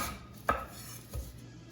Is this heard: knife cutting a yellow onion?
yes